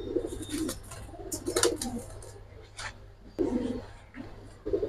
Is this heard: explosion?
no